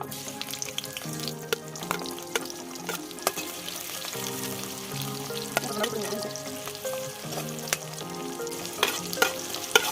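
Chopped onion frying in hot oil for a crab curry, a steady close sizzle with occasional stirring clatter running through the whole stretch, with no voices.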